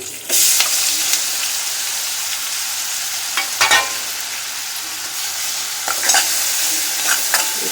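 Onion paste frying in oil with curry leaves and cumin, a loud continuous sizzle close by, punctuated by several scraping stirs of a spoon against the pan, no voices.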